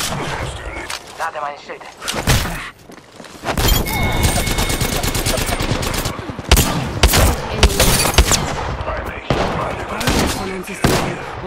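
Rapid gunfire bursts in the battle-royale shooter Apex Legends, loud and repeated in clusters across the whole stretch, with a player talking over the shooting.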